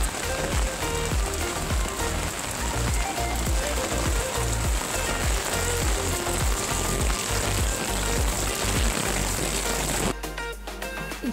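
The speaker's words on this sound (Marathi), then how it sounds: "थोडा पाऊस आला थोडासा." Light rain falling at a beach in Goa, a dense continuous patter of drops on surfaces that stays steady and fairly loud throughout, with no talking.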